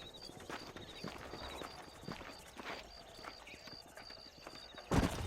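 Horse hooves clip-clopping in a steady trotting rhythm in the Red Dead Redemption video game, fairly faint, with a brief louder burst near the end and no speech.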